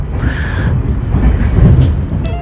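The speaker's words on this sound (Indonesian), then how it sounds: "kereta api Menoreh ini kecepatannya sudah 120 seperti Tawang J Premium ya" The Menoreh executive passenger train runs at about 120 km/h, giving a loud, steady low rumble and rushing wind noise with faint rattles throughout, as heard from on board.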